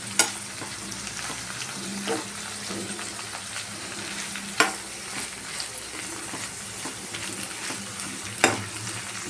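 Brinjal and other vegetables fry in a pan with a constant close sizzle, while a spatula stirs them with occasional sharp scraping clicks.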